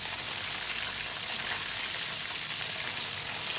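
Chicken wings deep frying in hot oil, a steady dense crackling sizzle, close and even throughout with no talk.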